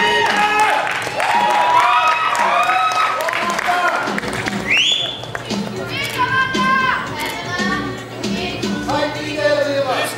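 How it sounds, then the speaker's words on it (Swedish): Audience applause at a Lucia pageant mixes with children's chatter and a few cheers, a dense, lively crowd sound that rises and dips around an adult voice speaking. "Få lite applåder också."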